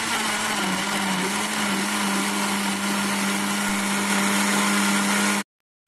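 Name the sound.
blender blending white guava and water for juice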